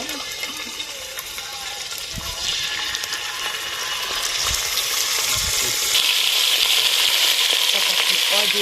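Meat frying in hot oil in a kazan for Uzbek shurpa, giving a loud, steady sizzle that grows stronger and hissier through the clip, with a few dull low knocks early on and no talking.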